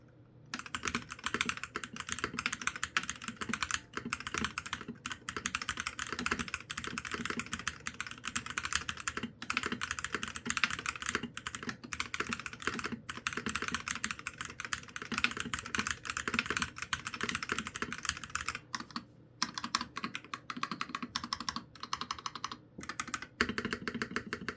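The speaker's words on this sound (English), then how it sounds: "Let's do a final type test." Typing on a MelGeek MADE84Pro mechanical keyboard: a dense, continuous stream of close clacking keystrokes with brief pauses, lasting over twenty seconds with no talking.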